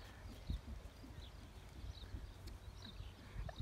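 A horse gallops on a riding course at a stable, its hoofbeats coming as a faint, distant, rhythmic clip-clop under soft ambient noise, with no one speaking.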